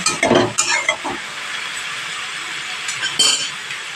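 Cabbage curry vegetables dropped into a pan and stirred, with clinks and rustles up front, then a soft steady sizzle of steaming vegetables.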